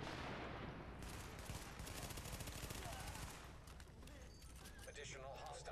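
Rapid automatic bursts from an MP5 submachine gun in The Division, dense and loud through the first few seconds, then thinning to scattered shots amid game ambience.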